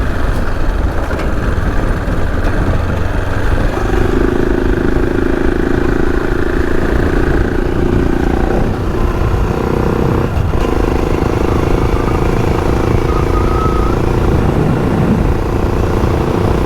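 Several motorbikes ride along a dirt track in the Flinders Ranges outback, their engines a steady continuous drone that rises and falls slightly as they travel, with no talk over it.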